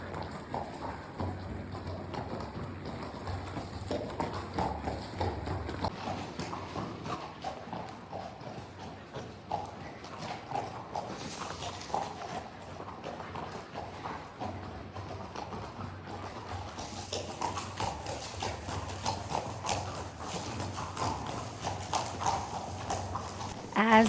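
Horses and a mule walking a mountain trail in Montana, steady overlapping clip-clop of hooves on rocky ground, close and continuous, with people talking over it.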